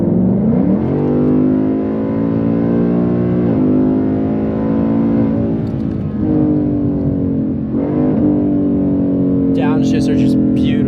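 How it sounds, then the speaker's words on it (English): A straight-piped 2019 Mustang GT pulls hard at full throttle in sport mode, its loud engine drone rising in pitch through each gear with brief shift dips, close by throughout. "This is when you floor it in sport mode."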